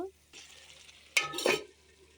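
Masala cooking in a pan with a little water just added, giving a short burst of sizzling and frying followed by a quieter simmer, close by, with no talking.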